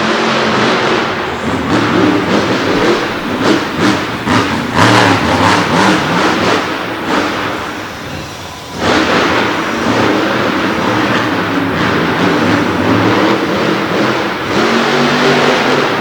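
A monster truck named Buckshot, driven by Brandon Budd, revs hard during a qualifying run on an indoor dirt track in Du Quoin, Illinois. The loud, sustained engine roar rises and falls, dips briefly, then surges again.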